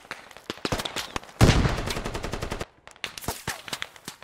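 Machine gun fire in a squad shooter video game: rapid bursts of loud, close shots, with a dense sustained volley in the middle and scattered shots before and after.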